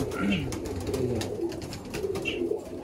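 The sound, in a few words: pigeons in a pigeon loft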